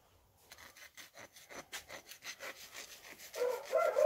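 A turkey's claw is filed with a stone in quick, rhythmic rasping strokes, close and steady, and grows slightly louder toward the end.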